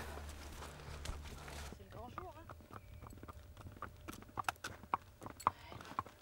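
Two young fillies walk on a meadow, their hooves clip-clopping in a steady pattern of soft thuds that grows into sharper, more distinct steps, while a person talks nearby at the start.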